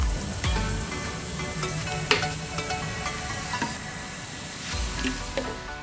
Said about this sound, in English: It bubbles up like everything.